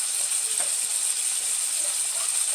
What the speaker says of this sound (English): And now this is just going to simmer for a while.